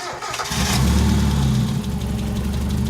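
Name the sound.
1991 Mazda Miata engine starting and idling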